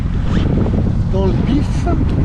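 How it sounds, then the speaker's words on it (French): Steady headwind of about 12 knots buffets a sailboat at sea in the Balearics, a continuous low rush of wind noise with faint tonal whistles from the rigging. "On a un petit peu de vent, en moyenne 12 nœuds, mais dans le nez."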